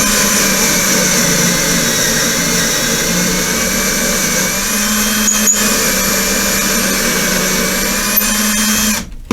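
A power case trimmer steadily cuts 6mm Creedmoor brass cases to length, giving a loud, continuous high whine with a faint scraping edge, ending in a brief clunk as it stops.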